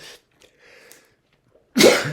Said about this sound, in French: c'est quand on éternue